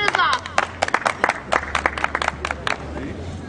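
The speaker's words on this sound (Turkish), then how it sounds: "Alkışlarınızla." A stage show audience gives scattered, uneven applause, with individual claps standing out loudly against a low background hum.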